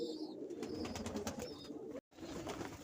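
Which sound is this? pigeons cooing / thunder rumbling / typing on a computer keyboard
pigeons cooing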